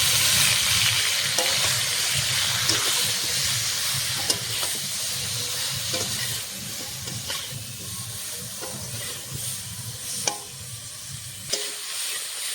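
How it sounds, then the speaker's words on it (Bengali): Continuous sizzle and hiss of cauliflower frying in hot mustard oil in a wok, with periodic clinks and scrapes of a spatula stirring the pan. No voices. "মাছের ঝোলের জন্য ফুলকপিটা ভাজা হয়ে গেছে"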